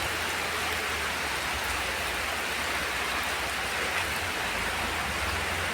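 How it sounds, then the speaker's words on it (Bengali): Heavy rain pours down in a steady, dense roar of drops hitting surfaces, constant and close with no voices. "দেখো কীভাবে বৃষ্টি নেমে গেল"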